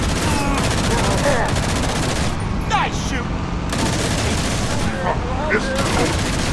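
Halo Reach combat gunfire in sustained rapid bursts, loud and dense with brief lulls, mixed with in-game shouting voices.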